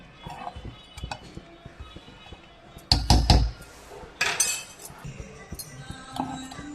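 A spoon stirs aval payasam in a pot, making scattered clinks and scrapes against the metal, with a louder cluster of knocks partway through and quieter taps around it.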